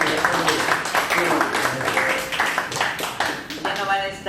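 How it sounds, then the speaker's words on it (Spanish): Audience at an institutional-strengthening training event claps over several seconds, a moderate, slightly distant patter mixed with murmuring voices. "un fuerte voto de aplauso."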